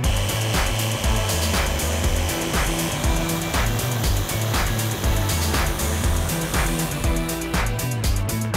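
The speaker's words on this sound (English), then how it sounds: "Power tools!" Power tools cut wood while a prop of Maui's hook from Moana is built, a loud, steady whir with rhythmic cutting strokes throughout and no talk.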